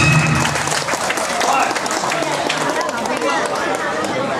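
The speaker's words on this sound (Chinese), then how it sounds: "来到现场，来掌声欢迎伊" Crowd clapping welcomes Councillor Zhou at a Taiwanese election rally: a steady, dense patter of applause that fills the whole stretch, mixed with crowd chatter and voices.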